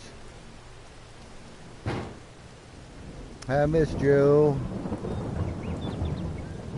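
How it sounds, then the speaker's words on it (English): Thunder rumbles through a video-game storm with steady rain, a low crack followed by a heavier rolling boom, while a voice speaks briefly in the middle. "Storm's gotten intense."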